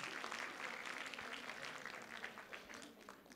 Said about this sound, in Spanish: Eso, aplausos.